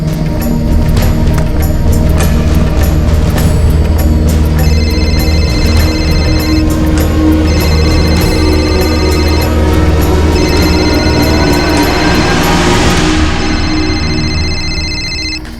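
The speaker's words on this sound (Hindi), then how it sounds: "रूबी, रेबेका को फोन लगा।" A telephone rings loudly and repeatedly in a Crime Patrol TV crime drama scene, over a continuous bed of background music and sound, the electronic ring tones recurring in a steady pattern across the whole stretch, with no speech.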